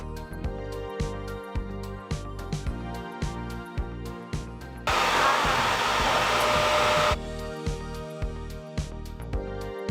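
Hair dryer fitted with a diffuser blows in a loud, steady rush of air for a few seconds while drying curly hair, set between stretches of background music.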